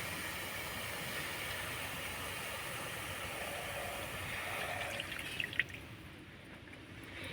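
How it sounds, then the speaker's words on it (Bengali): A bowl of water is poured into a pan of fried carrots, making a steady, close hissing rush for about five seconds before it settles, with a few small clinks near the end. "এবার দিয়ে দিব এক বাটি জল"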